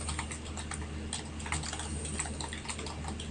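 Fast, steady typing on a computer keyboard while writing HTML in Notepad, close and fairly quiet, with a continuous run of light key clicks over faint room hum.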